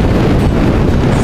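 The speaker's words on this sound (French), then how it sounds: "ça pousse vachement le vent là" Strong wind gusts buffet a Suzuki V-Strom 650 motorcycle on the road, a loud, continuous roaring rumble of wind noise battering the microphone, close and unbroken.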